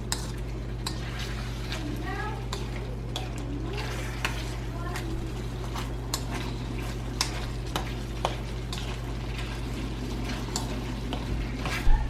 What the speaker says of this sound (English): Get that in there real good and stir that all around.